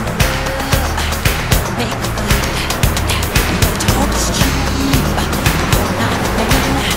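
Car engine and tire squeal in Halo Reach, a loud steady vehicle roar with rhythmic thumping bumps and gritty skidding noise throughout, close and dense, with voices talking over it.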